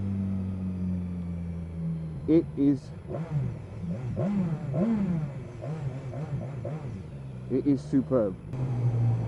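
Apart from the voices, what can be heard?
2015 BMW S1000XR motorcycle exhaust while riding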